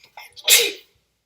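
One loud, sharp sneeze close to the microphone, a short breathy intake followed by the burst, then silence.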